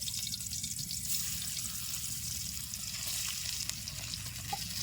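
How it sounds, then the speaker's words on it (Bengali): Fish frying in hot oil in a wok gives a continuous, fairly quiet sizzle and crackle, steady throughout with no talking. "তাইতে এসে মাছটা দিয়ে দেবো কারার মধ্যে।"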